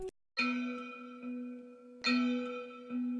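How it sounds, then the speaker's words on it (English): A synthesized bell rings out with sustained, shimmering tones, struck twice with short decaying chimes in between. "First off, introducing the song, we have a bell sound."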